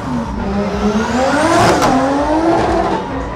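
A BMW fitted with a Fiat Marea engine revs hard outdoors at a car meet, its loud engine tone climbing to a peak and then easing back, with rough exhaust noise throughout.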